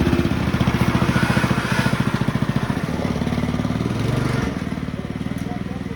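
Off-road Hammerhead MudHead 208R go-kart engine running steadily and loudly up close, a fast rhythmic putter with clattery mechanical overtones and slight variations in pace throughout.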